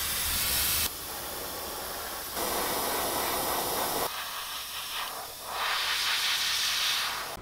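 An airbrush sprays paint onto a handmade fishing bait in a steady, close hiss that stops and restarts in several short bursts, with no talking.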